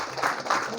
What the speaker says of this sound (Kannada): ಚಪ್ಪಾಳೆಯೊಂದಿಗೆ ದಯವಿಟ್ಟು ಸ್ವಾಗತಿಸಬೇಕು.